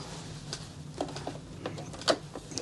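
An overlocker sewing machine runs over doll dress fabric for a Barbie gown, a quiet close mechanical whir with light irregular clicks and ticks.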